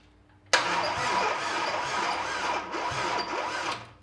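A car engine cranks on a weak battery, a sudden loud start of steady, labouring churning that holds for over three seconds without firing, heard close with no talk.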